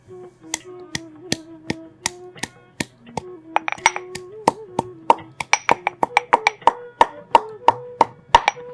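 Fig fruits and mace are pounded, giving a run of sharp, loud, evenly spaced knocks that speed up into quicker, denser strikes in the second half, close by with no talking.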